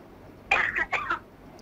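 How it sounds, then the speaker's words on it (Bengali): A patient in a doctor's examination gives a hard cough on request, two or three close bursts with a throat-clearing edge, loud and near, in an otherwise quiet room. "আপনি একটু জোরে কাশি দেন"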